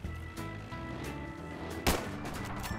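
Gunfire in the video game Battlefield 3, a sharp loud shot near the end over a dense background of game noise, with no voices.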